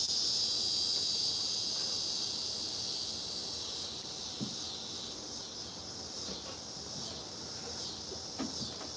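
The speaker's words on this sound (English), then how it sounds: "this murder cricket over here, whatever it is, cicada." Loud, steady insect buzz from a cicada, a shrill continuous drone that holds throughout with a few faint knocks and clicks underneath.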